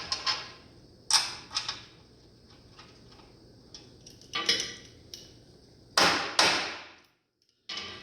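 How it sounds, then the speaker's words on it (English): Hammer blows tap bolts into the rear cab mounts of a 1948 Chevy truck body being fitted onto an S10 frame, sharp metallic strikes coming in scattered bursts and quick pairs with short pauses between them. "Even though I have to tap these bolts to get them to start"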